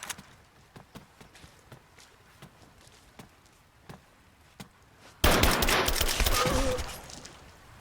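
Gunfire erupts in Rise of the Tomb Raider, a loud, sustained burst of rapid shots and crackling fire breaking in after a stretch of quieter, rhythmic footsteps.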